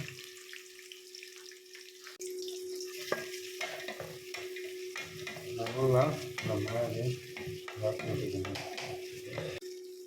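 Onions with cinnamon, cloves and cardamom sizzle in hot oil, a moderate crackle broken by clinks and scrapes of a stirring spoon, with a steady hum underneath and bursts of noise midway.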